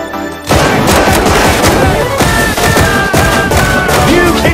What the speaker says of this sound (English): Just 3 shots from Kitchen Gun.